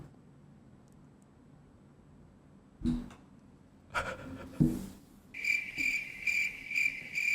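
A cricket chirping sound effect plays during a podcast conversation, starting after a few scattered taps and thumps and then pulsing in a fast, even, bright trill that continues to the end.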